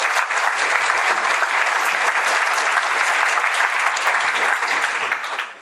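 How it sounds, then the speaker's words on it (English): A meetup audience breaks into sustained, dense applause to welcome Hadley Wickham before his talk on pipes; the clapping stays loud and steady throughout, then tapers at the very end. "Round of applause and enjoy his talk."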